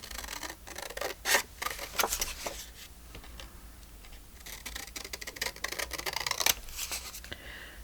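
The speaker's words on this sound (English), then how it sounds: "I'm going to cut some words out of here." Scissors snip words out of paper pages for a junk journal, producing a close, irregular run of crisp cuts separated by brief pauses.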